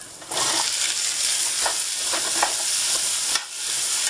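Vegetables hit a hot pan that has just held shrimp for a Cajun stew, breaking into a loud, steady sizzle with a few stirring scrapes, then briefly dipping before the frying resumes.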